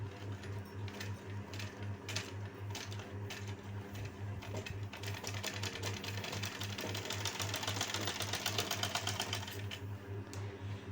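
A sewing machine runs steadily while stitching a neckline design, giving a fast, even mechanical whir and rapid needle clatter that holds close and constant throughout, with no talking.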